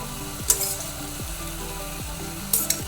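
Ground masala and curd fry in oil over a medium flame for egg donne biryani, with a steady sizzle and a few sharp scrapes or clinks of the spoon against the pan.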